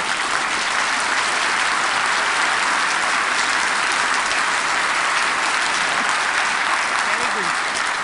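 An audience at a talk on listening claps hard and fast all together to imitate thunder. It makes a loud, continuous roar of clapping with no break and voices mixed in.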